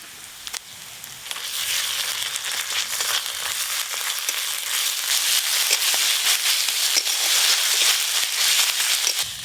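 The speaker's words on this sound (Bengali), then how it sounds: "পেঁয়াজ আদা রসুন ভালো করে ভাজা ভাজা হয়ে গেল" Onion, ginger and garlic paste frying in oil in a pan for a Bengali bhola fish curry, a steady, loud sizzle with dense crackling pops that builds slightly and continues without pause.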